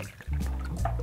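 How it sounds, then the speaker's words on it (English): Malibu coconut rum is poured into a glass, a brief soft liquid trickle and gurgle heard up close and alone. "we'll start this with a little bit of Malibu coconut here for a total of 1 ounce"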